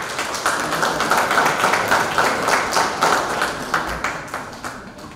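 An audience applauds after a lecture at a legal conference on habeas corpus, with dense, steady clapping from many hands that holds loud throughout and tapers slightly at the end.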